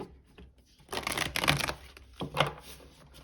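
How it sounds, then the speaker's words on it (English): A few quick bursts of riffling and flicking as a deck of tarot cards is shuffled close by, with short pauses between the bursts. "Okay, we'll do one last shuffle."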